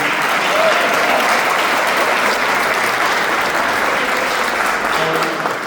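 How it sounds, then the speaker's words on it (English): Steady applause from a crowd at a hall of fame induction ceremony fills the whole stretch, loud and continuous without a break. "Can we get a round of applause for Councilman?"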